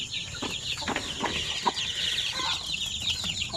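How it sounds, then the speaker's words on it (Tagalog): Chickens clucking with their chicks at a poultry farm in the rainy season, a busy chorus of close clucks and higher peeping over a steady background, with no talking. "Marami din yung mga sisiw natin dito ngayon na basilan."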